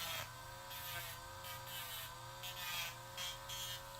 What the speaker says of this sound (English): should just be a small little sanding deal here